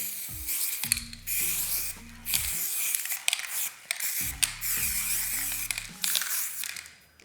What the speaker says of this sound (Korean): 멀리서 이렇게 뿌리면은 전체적으로 이제 색깔이 도포가 되면서 조금 이제 대경 색칠할 때 좋고요.